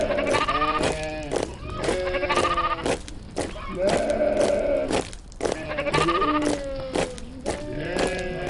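Sheep bleating loudly and repeatedly up close, several overlapping wavering calls following one another with almost no pause.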